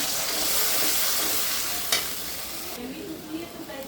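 Water is poured into a sizzling pan of fried onions and ginger-garlic paste. A loud, close frying hiss with stirring sounds shifts to a softer, duller bubbling once the water goes in.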